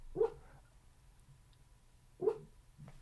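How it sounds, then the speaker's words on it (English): A little dog gives two short, sharp barks a couple of seconds apart, slightly distant, with a soft yip after the second in a quiet room. "That's the little pupper, she's barking."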